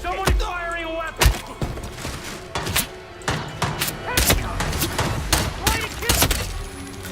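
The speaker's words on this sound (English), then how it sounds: "Somebody firing a weapon!" Gunfire in Hitman 3, a series of sharp, loud individual shots and thumps spaced irregularly over several seconds, with game voices and ambience underneath.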